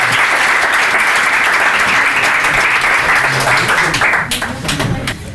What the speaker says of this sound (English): Please give her a warm round of applause.